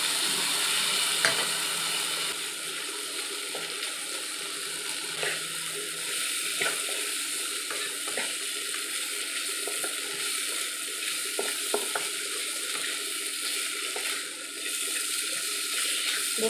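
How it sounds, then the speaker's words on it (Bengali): A fish head frying with spices in a pan makes a steady moderate sizzle, with light stirring clicks and scrapes scattered throughout, no talking. "দেখুন আমার মাছের মাথার সাথে মশলাগুলি একদম ভালো করে ভাজানো হয়ে গেছে।"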